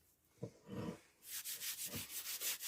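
Steel wire brush scraping vinegar-loosened rust off an old axe head during a restoration, heard as a few soft strokes followed by a run of rapid, rhythmic bristly scrubbing passes close by, with no talking.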